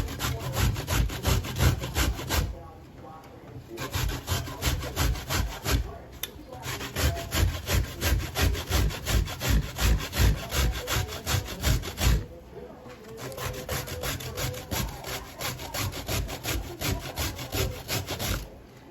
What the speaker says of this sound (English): Still grating. Grate this some more.